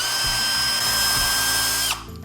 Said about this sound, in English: I'm gonna go ahead and drill a little hole